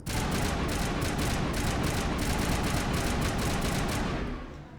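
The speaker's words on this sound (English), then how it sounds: "So I can shoot plenty of times because I'm a soldier." Rapid, dense bursts of gunfire from a soldier's weapon in the video game Mass Effect rattle almost without pause for several seconds, loud and up front, then trail off at the end.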